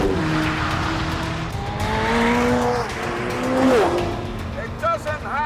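An old-style car with a period six-cylinder twin-spark engine drives past, its engine note rising and falling as it revs and shifts. Tyre squeal follows, and a voice cuts in briefly near the end.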